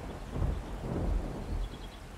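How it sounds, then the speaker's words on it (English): Thunder rumbles during a storm in the video game 7 Days to Die, low rolling swells rising and fading over steady rain, loud and close with no voices. "the thunder is a clapping. It is quite bloody loud as well."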